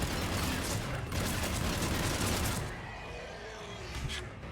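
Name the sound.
gunfire with incendiary ammo in the video game Mass Effect 3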